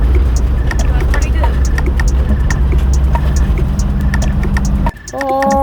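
A VW Karmann Safari fitted with new electric power steering drives along with a steady low engine drone and road rumble, ending in a brief horn-like tone, while people talk over it.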